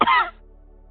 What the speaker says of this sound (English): He coughed, cutting off his speech.